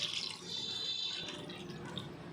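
Water poured from a mixer jar into a pan of prawn curry, a faint trickling splash at a steady low level, no speech.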